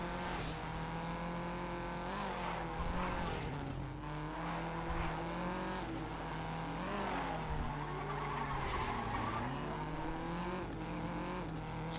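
Race car engine revving and shifting in the GRID video game during a pro drift run, steady loud engine drone with rising and falling pitch and repeated bursts of tire squeal.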